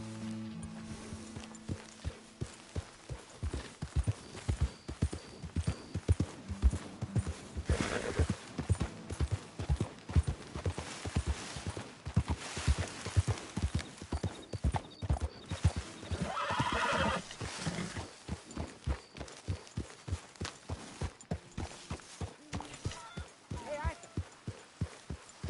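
Horse hooves and neighing in the video game Red Dead Redemption 2: a steady, rhythmic clip-clop of hooves at close range, with whinnies breaking in and occasional voices over the top.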